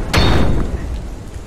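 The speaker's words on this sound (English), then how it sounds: "The crowbar broke." A crowbar prying at a door in a video game gives one loud, close crack and thud, which fades quickly into a low rumble.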